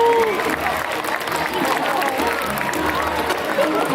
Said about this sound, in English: Let's give him a round of applause, you guys.